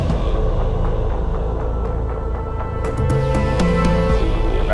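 A brass section plays within a dense full music mix, sustained horn-like tones sitting over steady layered instruments, loud and continuous throughout, with no voice.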